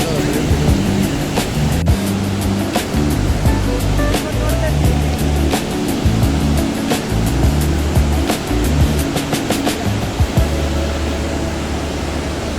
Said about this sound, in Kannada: ನೋಡಿ ನೀರು ಕೆಳಗೆ ಬೀಳ್ತಿರೋ ರಭಸಕ್ಕೆ ಮತ್ತೆ ಹಿಂಗೆ ಹಾರ್ತಿದೆ